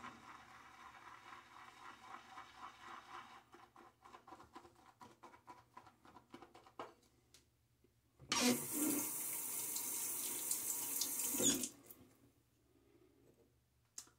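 A tap runs into a shaving bowl for about three seconds, a loud steady gush that stops abruptly and is framed by quieter clinks and handling sounds before and after.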